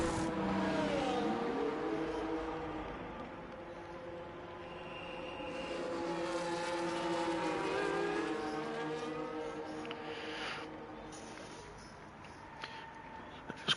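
Race car engines in a racing video game at the Singapore circuit, a whining engine note rising and falling through gear changes, moderately loud with a second car faintly audible.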